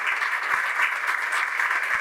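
Audience clapping at a yoga national conference session, steady dense applause from a hall crowd with a few sharper individual claps standing out, continuous and fairly loud.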